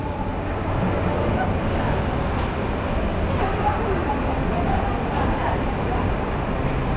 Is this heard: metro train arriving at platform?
yes